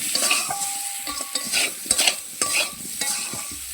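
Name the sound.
potatoes frying and being stirred with turmeric, chili powder, salt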